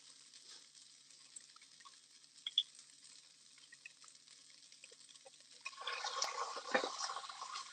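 About a quarter cup of water poured into a pan of dry sautéed curry tofu, a faint sizzle that jumps to a louder bubbling hiss as the liquid hits the hot pan, no talk.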